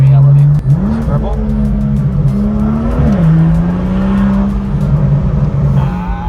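A straight-piped BMW M2 exhaust drones loudly while driving, with the engine note rising and falling and sharp burbling crackles on top. Voices are heard inside the car.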